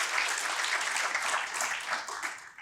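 A crowd at a NAMI Central Texas annual meeting applauds in a steady, dense burst that tapers off toward the end, with no talking over it.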